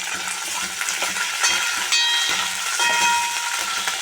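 Spices crackle and sizzle in hot oil for a tomato rasam tempering, with chana dal and fenugreek seeds added; a steady, close frying hiss runs throughout, broken by soft stirring scrapes and no talk.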